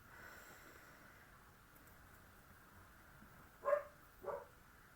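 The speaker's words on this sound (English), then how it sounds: "Sorry about my dog barking." Two short, muffled dog barks in quick succession, faint and distant from the room, rising briefly over a quiet background hum.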